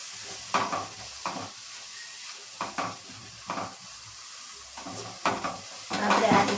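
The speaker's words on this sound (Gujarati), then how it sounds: "લસણ આપણું ગુલાબી રંગનું ન થાય ત્યાં સુધી તેને સાતળીશું" Chopped garlic sautéing in hot oil in a pan for garlic mango pickle, a soft steady sizzle broken by repeated scraping stir strokes about once a second, growing busier toward the end.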